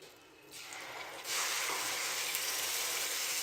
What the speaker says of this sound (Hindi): और यहाँ पे अब सिर्फ और सिर्फ 2 मिनट के लिए हम प्याज को फ्राई करेंगे।